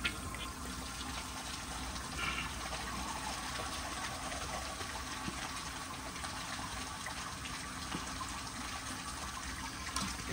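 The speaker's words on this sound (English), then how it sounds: "I'm just going to go ahead and hold down the handle and see if it'll flush this rag." A yellow 1978 Kilgore Apex toilet flushes a rag with its handle held down, giving a steady rushing gush of water that runs continuously at moderate volume with no speech.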